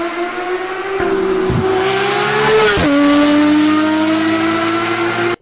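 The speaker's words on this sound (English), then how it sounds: "Yes, that is my Porsche, which is insane." A Porsche sports car engine revving hard, loud and close, with repeated throttle blips rising into a sustained high wailing rev that holds before cutting off abruptly.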